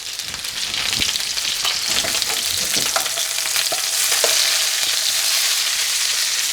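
Fish fries loudly in a hot pan, a dense steady sizzle and crackle that lasts throughout, with scattered spoon taps and splashes as hot fat is basted over it; no one speaks.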